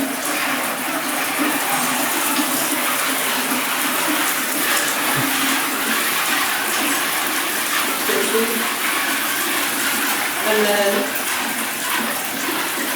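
Shower water spraying steadily from multiple jets in a London bathroom, a continuous broadband hiss and splash throughout with brief talk near the end.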